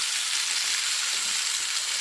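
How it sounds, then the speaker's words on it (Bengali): Pointed gourd (potol) frying in a pan on low heat, a steady, close hiss of sizzling oil as the pieces are stirred. "আর পটলগুলোকে একটু নেড়ে চেড়ে ভেজে নেব"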